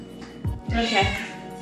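A cat gives a short, close meow with a rising and falling wail, quiet and brief, while a person's voice is heard faintly.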